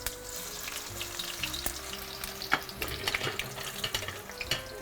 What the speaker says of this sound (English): we're going to let these fry for,